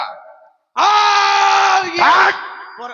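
At a Ramlila stage performance, a man lets out a loud, sustained shout and then a second rising cry, both raw and close after a brief moment of quiet.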